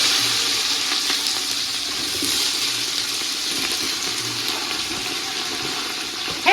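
Sliced onions hit hot oil for a large mutton biryani, giving a steady, loud broadband sizzle and hiss that continues without a break, with no talking over it.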